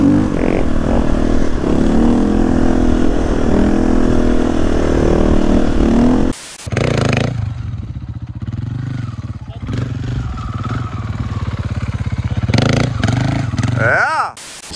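Supermoto motorcycles revving hard while riders hold wheelies, a loud continuous engine roar with rising and falling pitch, a brief cutout midway, then more revving and a sharp rising whine at the end, with excited voices shouting over it.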